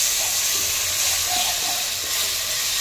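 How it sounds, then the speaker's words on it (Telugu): Ginger garlic paste fries in a pan for an Andhra-style gongura chicken biryani, giving a steady close sizzling hiss with no talking. "అల్లం వెల్లుల్లి పేస్ట్ని పచ్చివాసన పోయేంత వరకు వేయించుకుందాం."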